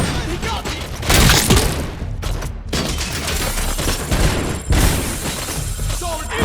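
Grenade blasts and rapid gunfire in RoboCop: Unfinished Business, a loud chaotic barrage of booming explosions and crackling shots, with a few brief near-silent gaps between bursts.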